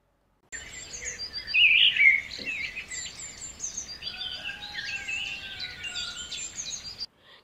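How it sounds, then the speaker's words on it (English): Parrot calls ring out as sharp, bright chirps and squawks, loudest early, then a run of quieter chattering tweets, heard alone without talk. "P for parrot."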